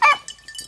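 A beagle gives a single sharp bark up close, followed by a couple of fainter yips and whimpers, outdoors on a field trial hunt.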